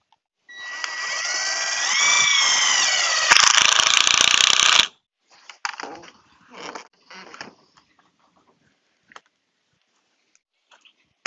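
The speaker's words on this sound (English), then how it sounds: "I'm just going to cut some slices of pipe and then cut them in half and screw them down into the wood on the frame." A power tool whirs and revs steadily for a few seconds while cutting plastic pipe for a hydroponic frame, then stops abruptly. Scattered clicks and handling knocks follow.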